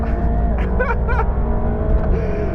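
A 730-horsepower Mercedes-AMG GT Black Series engine roars loudly and steadily at high revs on a track, with brief rising whines and gear changes layered over the sustained drone.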